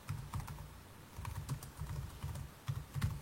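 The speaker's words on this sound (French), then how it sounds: "je n'ai plus qu'à taper mon texte" Fast, irregular keystrokes on a computer keyboard as text is typed into a shape in Word 2013, soft and close, with short pauses between bursts of keys.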